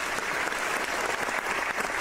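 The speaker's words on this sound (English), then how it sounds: "let me give a big ol' round of applause" Brief burst of dense, steady applause, a continuous wash of many hands clapping at even loudness with no voices over it.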